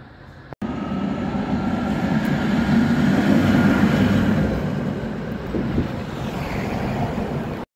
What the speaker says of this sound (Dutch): Daar heb je een trein.